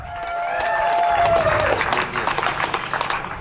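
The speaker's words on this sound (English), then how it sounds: "How about a nice round of applause for Frankie Garcia?" Spectators at a bagger motorcycle race at Chuckwalla Valley Raceway applaud and cheer, a swelling burst of clapping with crowd noise and a fading whine in the background.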